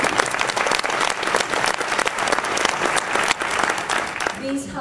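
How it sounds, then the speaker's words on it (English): An audience at a county chorus concert applauds a retired choral music teacher with sustained, dense clapping that stays loud throughout, with a voice briefly audible near the end. "I think he needs a round of applause for that, too."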